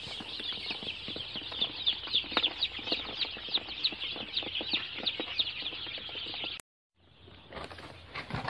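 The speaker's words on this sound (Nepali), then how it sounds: "यो चल्ला भर्खर आएको चल्ला हो।" A dense flock of newly arrived chicks in a brooder of fresh husk bedding chirps continuously in rapid, high-pitched peeps, close and lively, then cuts out abruptly before fainter chirping resumes.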